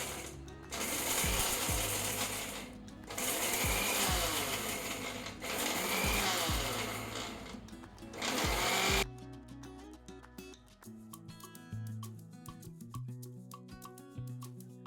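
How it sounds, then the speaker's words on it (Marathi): A kitchen mixer grinds cashews and almonds into a fine powder in several loud whirring bursts separated by short pauses, then a quieter, sparse ticking stretch after the motor stops. "काजू बदामची आपण छान बारीक पावडर करून घेऊया"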